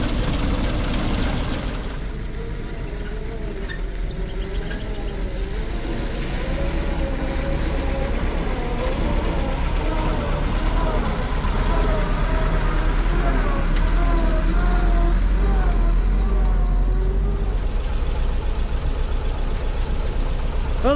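An old 1940s Ford truck's flathead V8 engine idles steadily with a low, even rumble, voices talking over it throughout.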